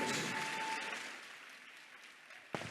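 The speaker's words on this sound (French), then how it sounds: "Acclame le Dieu que nous servons." Church congregation applauding together after a call to praise God, a dense wash of claps that fades gradually over a couple of seconds, with a sharp knock near the end.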